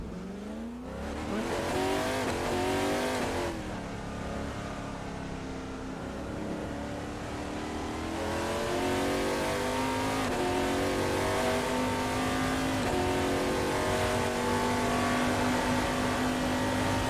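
Arica mod race car in a sim racing game revving hard through the gears, loud rising engine tones climbing in repeated sweeps with brief shifts, steady and close with no talking.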